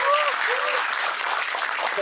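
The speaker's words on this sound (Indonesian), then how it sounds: "tepuk tangan" Applause from an audience at a TurunTangan movement gathering, a steady wash of clapping for the full two seconds, with a voice speaking over it.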